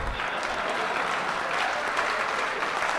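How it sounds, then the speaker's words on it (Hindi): Steady, dense applause from a live audience at a Hindi poetry recital, continuous and fairly loud throughout with no talk over it. "ताली बजा।"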